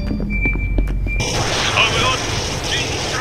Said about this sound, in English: How do I fire a grenade?